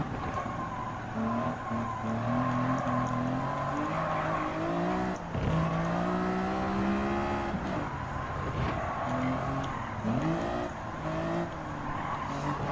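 Greddy Fugu Z race car engine lapping Willow Springs Raceway in Gran Turismo 7, a steady droning roar that climbs and falls with repeated upshifts and downshifts, with a brief skid, heard alone throughout.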